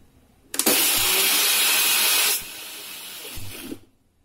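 A mixer grinder grinds masala paste for a quail fry with a loud, steady roar that runs for about two seconds. It then drops to a softer whir before cutting off, heard alone without talking.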